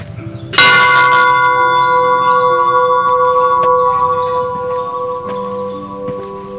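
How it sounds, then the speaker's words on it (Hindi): Large temple bell at Kasar Devi temple struck once with a loud, sharp clang, followed by a long, rich ringing that slowly fades over several seconds, with faint outdoor sounds beneath. "अभी तक बज रहा है, बड़ा घंटा था ना, देर तक उसका रेजोनेंस आ रहा है।"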